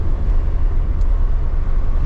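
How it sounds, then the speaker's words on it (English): A 1988 Volvo 740 turbo with intercooler and five-speed manual pulls hard under boost, its engine a loud, steady low drone that holds constant throughout without pause. "If I pin it, boom, it hits boost and it actually goes pretty good"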